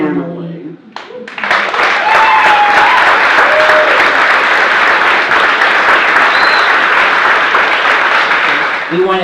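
Sustained, loud audience applause at a live storytelling event, a dense wash of clapping from a large crowd lasting several seconds with a few whoops rising above it.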